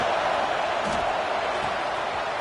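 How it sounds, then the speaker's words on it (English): Stadium crowd at a college football game, Arkansas against Texas A&M, a dense continuous roar of many voices at steady high loudness, distant and wash-like, with no single voice standing out. "this crowd is fired up. Listen to this noise here."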